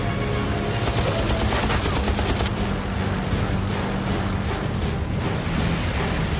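A P-51 Mustang fighter fires its machine guns during a dogfight. Dense, loud bursts of rapid gunfire roll almost continuously under a droning engine, with no voice over them.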